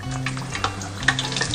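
Three pieces of battered sea fish deep-frying in hot oil, giving a steady crackling sizzle with scattered sharp pops and spits, close and continuous, with no talking.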